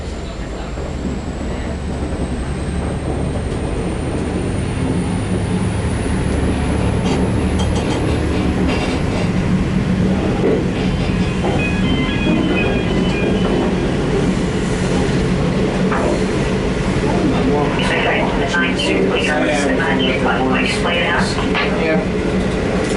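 Train 458 rolls along with carriages clattering over the rails, a loud continuous rumble with rhythmic clicks and occasional metallic squeals, while people talk throughout.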